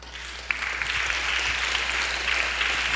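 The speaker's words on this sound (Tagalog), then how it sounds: "Palakpak." A church congregation applauding during a midweek service: steady, moderately loud clapping from many hands, lasting about three seconds over a faint low hum.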